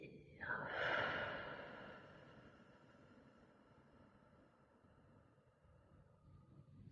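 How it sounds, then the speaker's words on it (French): One deep, slow exhalation in a guided breathing exercise, an airy breath swelling near the start and fading into a long quiet stretch before a brief sound at the very end. "Et on expire."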